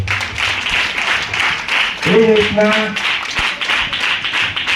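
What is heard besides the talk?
audience applause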